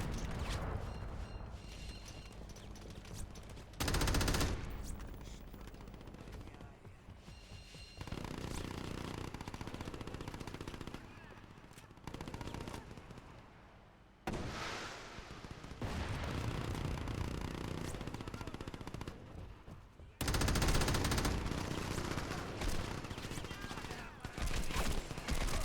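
Gunfire and explosions in the video game Crackdown, with dense sustained rattling fire and heavy blasts in long loud stretches broken by abrupt cuts, under intermittent talk.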